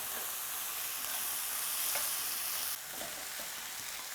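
Boiled potatoes sauté in a pan for samosa filling, giving a continuous close sizzle with light stirring scrapes. The sizzle drops slightly in level partway through, and no one speaks.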